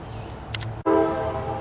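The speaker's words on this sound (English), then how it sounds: "Sounds like a train is coming through" A train horn sounds, loud and sustained, with low rumbling underneath, after a short pause in the background noise.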